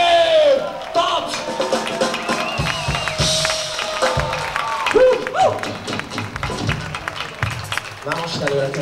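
Audience at a tribute festival concert in Hungary applauds and cheers as a singer is introduced, a sustained crowd wash of clapping with whoops and shouts, voices and stage noise mixed in throughout.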